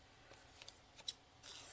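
Scissors snip through branches for a two-color Halloween wreath, a few quiet, short cuts spaced irregularly, close but faint.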